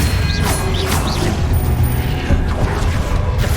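The Expelliarmus disarming spell cast in Hogwarts Legacy during combat, a loud dense burst of magical impact with rumbling booms and crashing clatter running steadily for several seconds, with rising whistles near the start.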